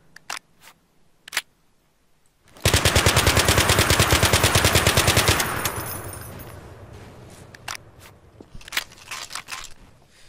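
An UMP submachine gun in Garry's Mod fires a single rapid automatic burst of about three seconds, loud and close, then trails off into a long echoing decay. Scattered clicks and handling noises come before and after.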